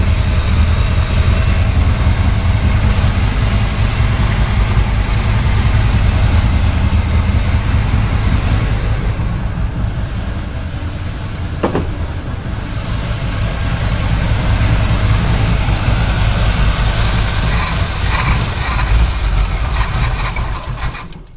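1980 Camaro Z28 engine running roughly with timing likely off, a loud close, continuous mechanical rumble with ticking and rattling that holds steady throughout without pause.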